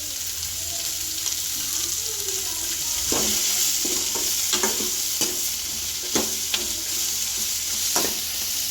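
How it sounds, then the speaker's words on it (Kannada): Onions sizzle in an oiled pan for a Gowda-style mutton curry under a constant frying hiss. Several sharp spoon scrapes and taps stand out at irregular intervals, with no voices. "ಒಂದು ಸ್ವಲ್ಪ ಬ್ರೌನ್ ಕಲರ್ ಬರೋವರೆಗೂ ಚೆನ್ನಾಗಿ ಹುರ್ಕೋಬೇಕು"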